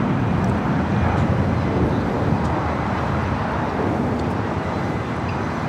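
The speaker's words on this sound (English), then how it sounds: "That is Air France Flight 22 coming in from Paris on a 777 300 ER." Air France Boeing 777-300ER arriving at LAX, a steady broadband jet roar at moderate distance, continuous and unchanging without voices.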